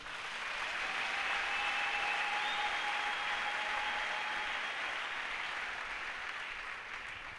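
A church congregation applauds the Lord with dense, loud, continuous clapping that fills the whole stretch and only eases slightly toward the end, with a few faint sustained tones above it.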